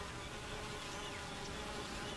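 Honeybee workers buzzing at the entrance of their hive, a steady, even drone of many wings that holds at a faint level throughout with no break or voice.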